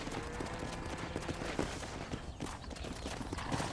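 Horse hooves clip-clop at a steady trot in the Western video game Red Dead Redemption, a busy rhythmic patter mixed into dense game ambience and moderately loud throughout.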